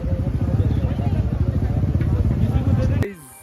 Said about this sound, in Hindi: हम लोग ले लिया है बाइक।